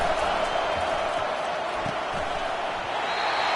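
A stadium crowd roars at an LSU football game on a big third down, a broad steady wall of cheering with play-by-play commentary running over it.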